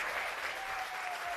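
An audience applauds a live band at a show, a dense wash of clapping that holds steady and close for the whole short moment.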